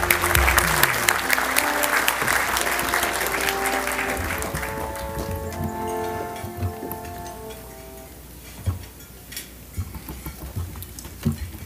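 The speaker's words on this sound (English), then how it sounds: "Please welcome, with a big, round, warm applause" Audience at a community briefing applauding as Henry Kelly is welcomed: a loud burst of clapping with a musical walk-on tune underneath, slowly fading to scattered claps.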